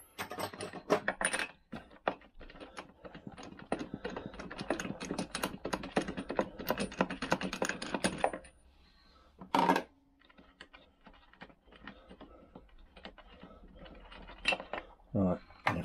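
Metallic clicks and ratcheting taps come from a tight spark plug being unscrewed from a Vespa PX engine, dense at first, then sparse with a couple of louder clunks near the end.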